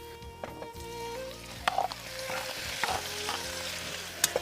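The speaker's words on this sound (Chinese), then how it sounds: "把羊杂放进去。" Lamb offal hits a pan of fried hotpot base and sizzles steadily, with stirring scrapes and a few sharp clicks of utensils throughout, close and moderately loud, no talk.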